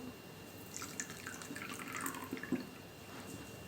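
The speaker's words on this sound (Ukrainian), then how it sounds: "Тепер до желатину вливаю водичку." Water poured from a small vessel onto powdered gelatin in a bowl, a faint, close trickle with light drips and splashes, steady and quiet throughout with no talking.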